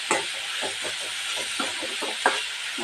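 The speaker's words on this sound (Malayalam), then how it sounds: "തക്കാളി ഇട്ടിട്ട് നന്നായിട്ടൊന്ന് വഴറ്റുക." Tomatoes sautéed in a hot pan for a dried fish curry give a steady, close sizzling hiss that stays even throughout, with faint stirring scrapes underneath and no talking.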